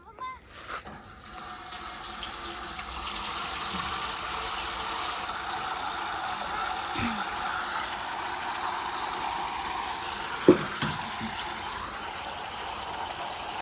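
Steady broadband rush of water, like water being poured or gushing from an outlet, running continuously with a few sharp knocks partway through.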